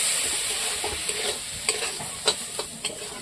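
Semolina stirred with water in a pan: steady wet scraping and swishing under a soft constant hiss, with a few sharper spoon knocks against the pan near the end.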